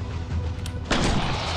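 A single loud gunshot boom in the Dino Hunter hunting game, fired at a dinosaur, bursting out abruptly over a low rumbling ambient bed and ringing on briefly.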